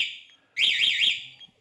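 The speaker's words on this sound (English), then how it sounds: "When the alarm goes off on the boat, it also goes off on this key fob" Two-way boat security alarm set off by vibration, sounding as a loud warbling electronic siren that starts abruptly and runs about a second, preceded by a fainter steady tone; no talking.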